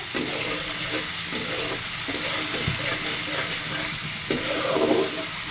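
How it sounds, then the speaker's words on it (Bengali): Masala being fried and stirred in a pan gives a steady, close sizzle with soft scraping strokes running through it. No one speaks. "এখন সেটা দিয়ে মশলাটা কষে নিব"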